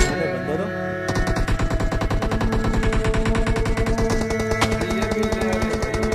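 Automatic gunfire from a team deathmatch video game, steady rapid bursts running nearly the whole time over music-like tonal layers, loud and close, with brief talk mixed in.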